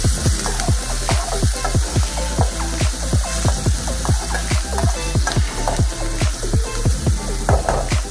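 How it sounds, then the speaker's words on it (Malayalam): Sliced onions stirred in a frying pan for a Kerala-style ivy gourd and peanut stir-fry, a continuous close sizzle broken by rhythmic scraping strokes of the spatula, about two per second, with no talking. "അതിനുശേഷം നമുക്കിതിലേക്ക് അരിഞ്ഞു വെച്ചിരിക്കുന്ന സവാള ചേർത്ത് കൊടുക്കാം. നന്നായിട്ട് ഇളക്കി കൊടുക്കാം."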